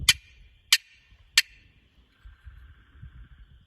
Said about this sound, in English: I love that high-pitched hen, especially in the wind, and the Jake cluck.